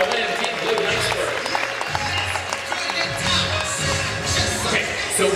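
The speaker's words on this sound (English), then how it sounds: "I thought it was a good round of applause, ladies and gentlemen." Crowd applause fills the stands at an extreme dogs competition, a steady wash of clapping and cheering kept up throughout with general crowd noise.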